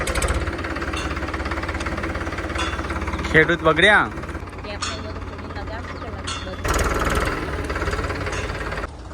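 A new tractor's engine runs steadily throughout with a low, continuous mid-range rumble, while people talk over it and a brief sharper sound rises near the middle.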